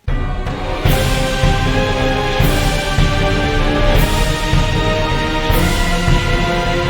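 Loud orchestral video game music with choir, low brass, violins, guitars and driving percussion, accents hitting at a steady pulse roughly every second and a half, continuous with no talking.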